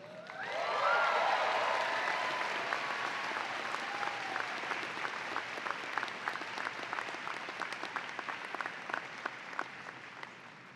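An audience applauds at a medical school commencement, a thick wash of clapping that swells quickly, holds steady, then thins toward individual claps at the end.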